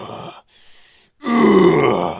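A man grunting while lifting weights during arm curls, a brief strained grunt followed by a longer, louder effortful groan, close and alone.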